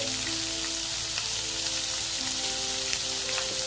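Finely chopped onion frying in hot oil after the tempering, a loud, dense, even sizzle filling the whole moment, with faint tonal hum underneath and no speech.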